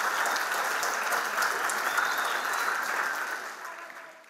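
Crowd applause for the jury at a Beldur Barik awards ceremony in Irun, sustained lively clapping from an audience that fades out toward the end.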